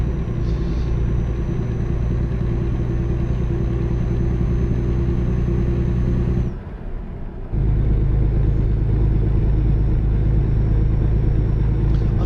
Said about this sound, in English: the engine sound is really nice.